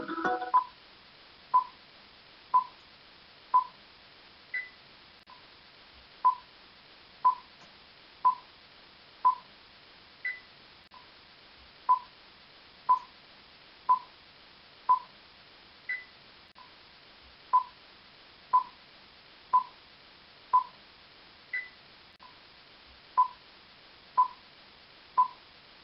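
Countdown timer for a 25-second classroom pretest: a steady series of short electronic beeps about one per second, with a slightly higher tone marking each group, clear and alone with no talking.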